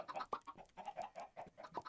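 Chickens in a Minecraft modpack cluck in short, quick bursts, a rapid string of close, chirpy game-animal calls with no talking.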